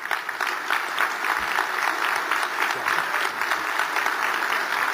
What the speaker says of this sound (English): may I ask all the Texas delegation to please stand for a round of applause and a sincere thank you.